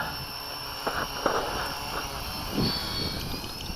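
A Naze32-controlled quadcopter lands with its throttle dropped, the motors' whine wavering and shifting pitch as it settles, with light wind turbulence around it.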